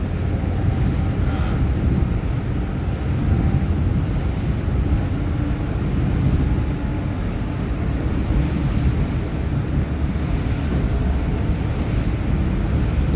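Steady low rumble of a helicopter flying nearby over water near Galveston, Texas, constant and fairly loud throughout with some wind noise mixed in.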